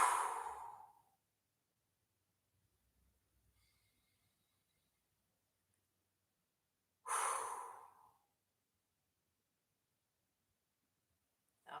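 Two forceful exhales blown out through an O-shaped mouth during a Pilates session, each a breathy, hissing rush about a second long, separated by a long quiet gap.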